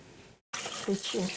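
Clean water pours from a tap in a steady splashing rush that starts abruptly after a brief cut, with a voice talking over it.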